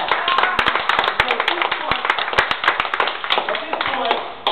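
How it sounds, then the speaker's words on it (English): Audience at a David Cobb Move to Amend talk applauding, a dense patter of clapping hands that carries steadily through the whole stretch with no pauses. "You can applaud that."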